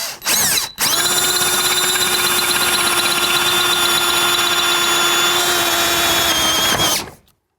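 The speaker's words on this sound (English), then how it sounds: "when you're drilling through metal, keep the drill on low speed" A power drill runs at low speed through metal while a TV wall mount is fitted: a short burst, a brief pause, then a loud, steady whirring drone for about six seconds before it cuts off.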